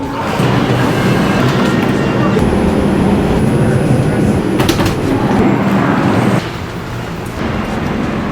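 A New York subway train rumbles loudly and continuously through a hot station, with rattling, screeching metallic bursts and a roaring wash of noise that drops slightly near the end, drowning out any voices.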